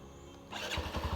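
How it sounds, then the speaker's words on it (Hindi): A Hero Xtreme 125R motorcycle engine cranks and fires up close by after a quiet start, settling into a loud, throbbing idle with a steady low pulse. "बाइक को स्टार्ट कर लेते हैं, इंजन साउंड सुन लेते हैं,"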